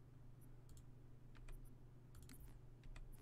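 Computer keyboard and mouse being clicked while adjusting settings for the PC shooter Halo Reach: scattered, light, fairly faint clicks and key taps in irregular bursts over a low steady hum.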